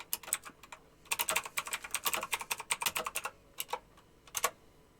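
Quick bursts of typing on a computer keyboard, close and crisp, with irregular rhythm and short pauses between flurries of keystrokes.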